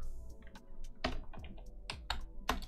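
Keys clacking on a computer keyboard while entering text in Unreal Engine 5, a quick uneven run of close, crisp taps with no voices over them.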